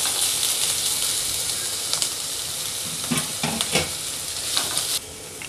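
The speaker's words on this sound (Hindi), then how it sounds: "इसको हाई फ्लेम पे ही भूनना है" Grated ginger and vegetables stir-fried over a high flame make a loud, dense sizzle broken by spatula scrapes and stirring clacks, easing off abruptly near the end.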